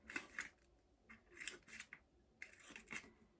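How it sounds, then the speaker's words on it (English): Scissors snip through wrapping paper while a Christmas gift is wrapped, in three quiet, close bursts of crisp cutting and paper rustle separated by short pauses. "grab your scissors, and then just cut into it"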